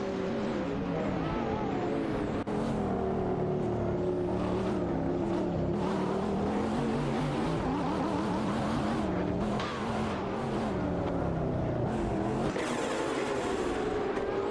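Race cars in a video game race, with a McLaren among the field: continuous engine drone with shifting revs and occasional tire squeal, loud and steady throughout.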